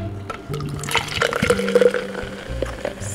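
Berry-flavored sparkling water pours and glugs into a glass in short bursts, with light fizzing and dripping, close by and fairly quiet.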